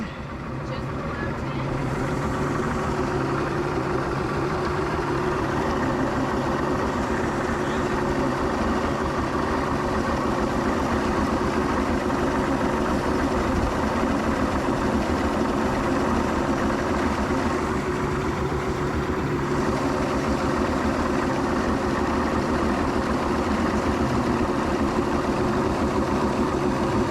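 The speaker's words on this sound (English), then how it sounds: "What's it idling at?" A 1999 Johnson 200 HP V6 outboard motor idles steadily throughout, a close, continuous low rumble with even loudness and a faint voice briefly mixed in.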